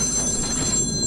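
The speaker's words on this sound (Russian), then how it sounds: "Это мне вовремя телефон звонит, как обычно." A telephone rings with steady high electronic tones, loud and continuous over low background noise from a naval combat game.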